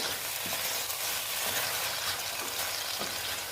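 Banana-flower curry, just sweetened with sugar, sizzles steadily in a pan while being stirred, a constant close frying hiss with soft scraping strokes.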